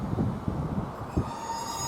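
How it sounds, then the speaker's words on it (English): A Northern passenger train on the 10:53 Newcastle service stands at Thornaby station, giving a low rumbling mechanical drone with periodic thumps and a faint, thin brake squeal rising near the end. "Squeaky brake time."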